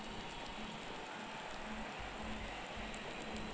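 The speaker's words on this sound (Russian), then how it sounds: "у нас грозище, у нас дождь льет" Heavy rain pours during a thunderstorm in the racing video game Project Cars 2, a dense continuous hiss of drops with a low rumble underneath, alone without talk.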